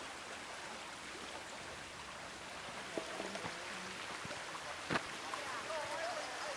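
Steady broadband rush of Redwood Creek flowing in Marin, constant and fairly close, with a few faint knocks and clicks over it.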